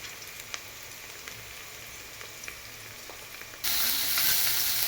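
Onions and coriander fry in a pan, a steady sizzle with occasional stirring clicks that grows suddenly louder near the end, no talking.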